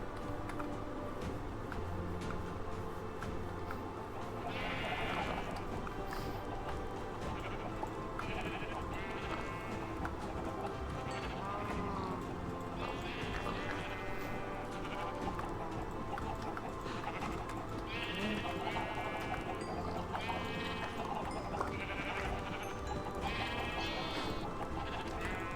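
Sheep bleat repeatedly in a video game colony, several wavering calls scattered through a dense, steady bed of game noise, with clopping hooves mixed in and no clear talk.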